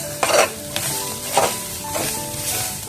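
Coconut and spices being dry-roasted in a pan for chammanthi powder, with a soft steady sizzle and a few distinct stirring scrapes across the pan, close and alone without talk.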